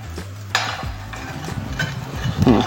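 Food being stirred in a hot home-kitchen pan, with scraping utensil strokes and soft sizzling in bursts, nearby and moderately loud, no talking.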